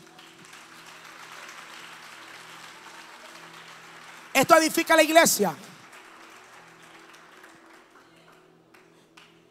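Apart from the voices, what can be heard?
church congregation applause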